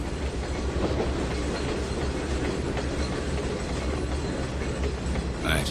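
A train in the simulator Trainz 2019 rolls steadily along the track, with a continuous rumbling run and faint rhythmic wheel clatter, loud and alone without talk until a brief bright sound at the very end.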